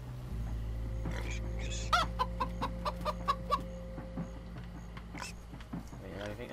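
Chickens clucking in the video game Minecraft Story Mode, a string of short, sharp clucks in quick succession over steady game music, with a voice talking nearby.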